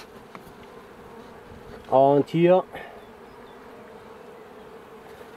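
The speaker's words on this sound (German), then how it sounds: "Solange die Bienen noch unten sind, treibe ich sie noch mal ein bisschen runter." Honeybees at a beehive during a swarm check give a steady low buzz throughout, with a brief burst of German speech near the middle.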